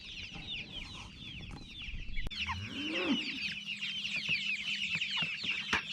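Three-week-old Jumbo Cornish Cross chickens cluck and peep continuously at close range outdoors near a chicken tractor, with a brief handling thump midway and a few rustling knocks.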